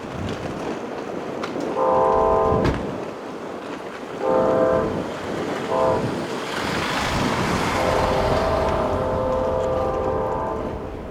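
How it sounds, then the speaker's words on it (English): Amtrak Auto Train rolling through Ashland station in Virginia, its horn sounding in several long blasts over steady rumbling wheels and rail noise, loud and close. "please be advised that the auto train will be coming through"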